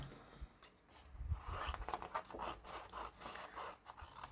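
Scissors snip close by around the edge of decorative paper for a file folder, with a quiet, uneven series of short cuts and soft paper rustles in between.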